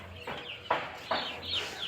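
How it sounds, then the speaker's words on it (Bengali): Chickens settling to sleep in a winter poultry shed give a few soft, drawn-out clucks, three or four calls close by and fairly quiet. "এইটাও দেখো মুরগিগুলো ঘুমাচ্ছে"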